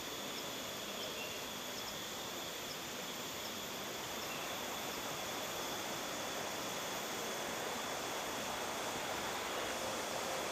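A small river stream flows beside a forest trail near historic Mataram kingdom ruins. Its rushing water makes a steady, even wash of noise throughout, with no talking.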